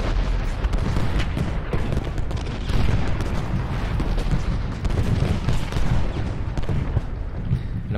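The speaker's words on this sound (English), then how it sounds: "Hopefully we can definitely unleash some very, very devastating barrages on the enemy's lines here." Artillery and musket barrages thunder in the Ultimate General Gettysburg battle, dense rolling booms and crackling volleys overlapping continuously, loud and close, with no voices.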